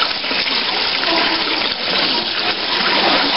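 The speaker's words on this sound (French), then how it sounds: "Et donc le surplus d'eau recoule dans celui-ci." Steady rushing of excess water flowing back down into a basin at an animal park, a continuous broadband splashing pour that stays loud and even throughout, with no talk over it.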